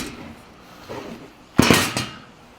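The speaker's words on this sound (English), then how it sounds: "Punches a hole." A metal flange is punched through with a hand tool for a 1937 Zephyr radiator duct, giving a single sharp metallic clack and brief ringing after some quieter handling clatter.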